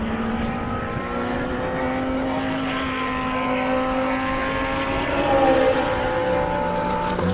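GT race cars at Redstar Raceway drone past from a distance, their engines sweeping up and down in pitch through what sounds like a run of downshifts, steady and moderately loud against open track ambience.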